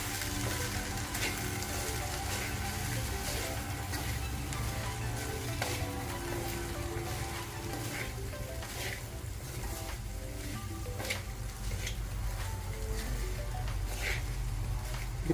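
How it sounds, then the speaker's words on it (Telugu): Samosa filling with spices and garam masala is stirred in a pan, giving a steady, continuous sizzle with scattered scraping and clinking strokes of the spoon throughout. "ఇప్పుడు అన్నీ మళ్ళీ కలుపుకోవాలి."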